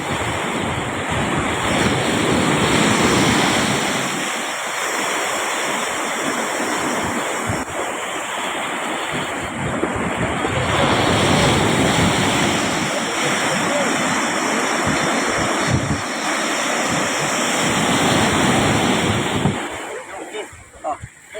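Ocean waves surge against fishing boats along the shore in strong wind, a continuous loud roar of surf and buffeting wind noise throughout, with faint voices occasionally under it.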